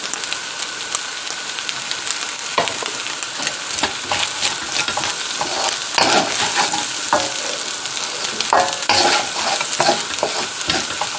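Rice stir-fried in oil or ghee for chicken 65 fried rice gives a close, continuous crackling sizzle broken by repeated scrapes and taps of a spatula against the pan, with no voice heard.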